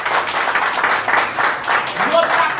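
A crowd at a street sit-in held by an opposition group claps and applauds for the activists, with steady broadband clapping running throughout, mixed with voices and crowd noise.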